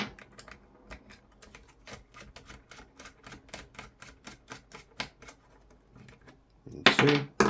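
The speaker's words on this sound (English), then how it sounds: "So we remove these 2 screws." Sharp metallic clicks and ticks of screws being worked loose from a Silverback TAC-41 rifle chassis, a steady string of close, crisp taps with a louder rattling clatter near the end.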